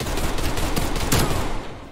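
Rapid gunfire from a Type 63 rifle in the video game Black Ops Cold War, a dense burst of loud, close shots for nearly two seconds before fading, no voices.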